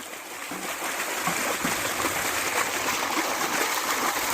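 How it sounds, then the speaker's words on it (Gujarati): Irrigation water flows steadily into a wheat field with a continuous rushing and gurgling, close by and fairly even, without any voices. "પાણી જાય છે ભાઈ ઘઉંમાં"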